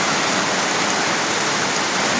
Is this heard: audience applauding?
no